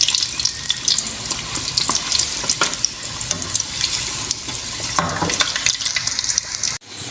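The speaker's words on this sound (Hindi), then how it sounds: "14 समोसे हमारे अल्हम्दुलिल्लाह समोसे फ्राई करने हमने स्टार्ट कर दिए हैं" Potato samosas deep-frying in a pan of hot oil, a steady, fairly loud bubbling hiss with scattered crackles that runs throughout, with no talking and a brief drop near the end.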